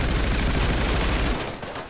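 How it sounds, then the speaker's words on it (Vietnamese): Dense gunfire from a GTA 5 roleplay shootout during a weapons-truck robbery, a loud continuous fusillade of rapid shots that cuts off sharply near the end, leaving a quieter tail. "Có cái thằng mặc đồ vest như là John Wick ở đây là bắn nó không chết nè"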